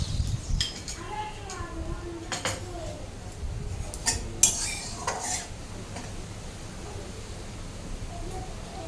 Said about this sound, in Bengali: চিনিটা আমি দেবো কালারের জন্য, সে কারণে গরম তেলের মধ্যে দিয়ে দেবো